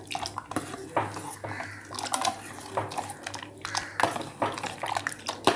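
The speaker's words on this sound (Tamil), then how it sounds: "இது மாதிரி ஒரு 4-5 தடவை கிண்டி விட்டுக்கிட்டே இருங்க." A spoon stirring fruit custard in a bowl, clinking and scraping in quick repeated strokes with wet sloshing, close up and lively, with faint talk underneath.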